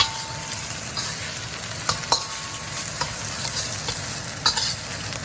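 Eggs stir-fried in a hot pan for crab and Chinese sausage fried rice, a constant bright sizzle with a few sharp spatula scrapes and taps, close up and without speech.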